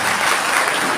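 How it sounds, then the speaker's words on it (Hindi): Audience applause for the mayor of Indore at a Brahmin community gathering, loud and dense clapping from a crowd, steady throughout the brief moment. "जरा जोरदार ताली बजा दीजिए"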